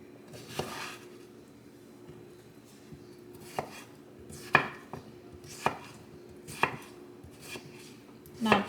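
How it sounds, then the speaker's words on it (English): A knife chops an onion on a board with about seven or eight distinct, irregularly spaced cuts, close and quiet with no voices. "I will also cut up an onion"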